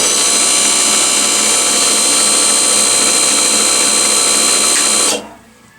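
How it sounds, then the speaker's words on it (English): A 9x20 lathe's electric motor runs steadily at full loudness with a constant whine, then halts abruptly under a regenerative brake, leaving only faint room tone for the last moment. "that stopped with a regenerative brake"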